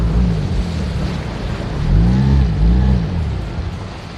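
A small outboard motor runs steadily, its low droning hum rising and falling slightly in pitch, loud and close with no voices over it.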